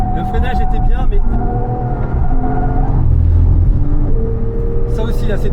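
A car engine pulls hard through a hot lap on a racing circuit during a club session, droning loud and steady with shifting pitch as it accelerates and brakes, close by throughout.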